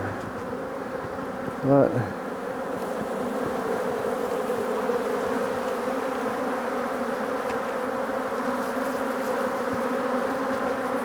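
Honey bees swarm and buzz in a steady, dense drone around an opened hive during a split, close and continuous, with a brief clunk near the start and a single spoken word.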